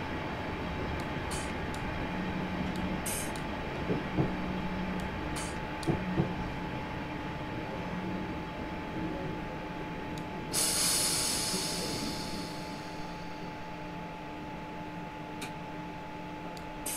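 A simulated passenger train approaching Mitcham on the Wimbledon to West Croydon line in Train Simulator 2019 rumbles steadily with a constant motor hum, with occasional light clicks and a brief hiss partway through, and no talk.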